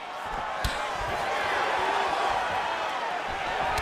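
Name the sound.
leg kick impact and crowd reaction in UFC 5 video game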